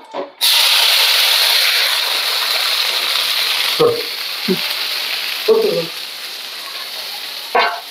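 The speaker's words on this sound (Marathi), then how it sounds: "आता हे तमालपत्र टाकून घेऊया आपण आणि त्याच्यात हा मसाला" Bay leaf and masala hit hot oil with a sudden loud sizzle that then keeps hissing and crackling up close, while brief voices speak now and then over it.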